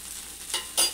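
Dosa batter made with rice flour frying in oil on a hot pan gives a faint, steady sizzle with two brief louder hisses as more oil is added.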